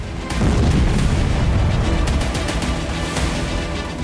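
Drone explosion over Moscow: a heavy booming blast that rolls into a long rumbling roar with crackling bursts, loud and sustained.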